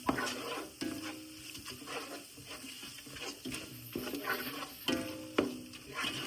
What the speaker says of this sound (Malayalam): നന്നായിട്ട് മിക്സ് ചെയ്ത് കൊടുക്കാം.